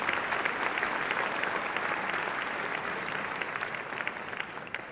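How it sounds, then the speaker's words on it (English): A pageant audience at Miss Ohio 2010 claps in a full, loud, continuous round of applause that holds steady throughout, with no speech over it. "we would just like to give Applebee's, as well as Jeff, a round of applause"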